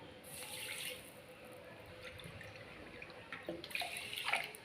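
Water pours from a bowl into a pot to make sugar syrup, a quiet continuous splashing stream with brief louder gushes near the start and end, no voices.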